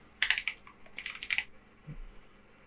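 Two quick bursts of key clicks on a computer keyboard as a firm name is typed, close and crisp, followed by a short pause and a faint low thump.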